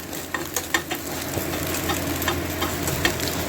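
Homemade noodles stir-fried in a pan under a steady sizzle, with repeated light scrapes and taps of a ladle pressing them down, close and without talk.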